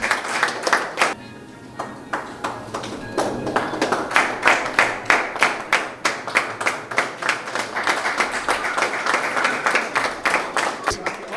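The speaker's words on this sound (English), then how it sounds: "Can we continue the applause?" An audience claps at a Rotaract club installation ceremony in Mangalore, starting with scattered claps and building into steady, rhythmic applause of sharp individual hand claps, with a voice speaking briefly underneath.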